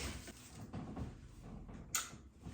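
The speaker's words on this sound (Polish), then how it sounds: "Otworzę drzwi, żeby się nie udusić." A door being opened indoors at home, heard as a single short, sharp latch-like click near the end over faint room noise.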